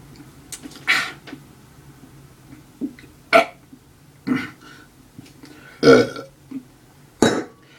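Several loud, separate burps spaced a second or two apart, with short pauses between them, from a person who has just been drinking blackcurrant.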